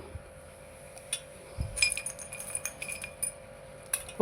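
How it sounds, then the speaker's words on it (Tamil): Hard little pieces of rock sugar clink and rattle against a glass mixer jar, a few sharp taps then a quick scatter of clinks, close and fairly quiet. "இந்த கற்கண்டும் சேர்த்து போட்டுக்கிறது"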